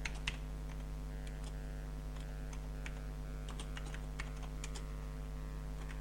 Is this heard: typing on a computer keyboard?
yes